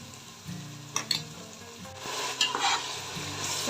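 Mutton cooks with green chillies and ginger garlic paste in a pan, sizzling softly while a spoon scrapes and stirs in several uneven strokes. The sound is fairly quiet, close and has no voices.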